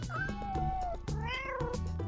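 Cats meow several times in quick succession, drawn-out rising and falling cries that sit close and loud over a steady low background hum.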